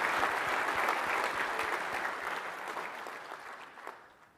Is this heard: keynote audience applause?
yes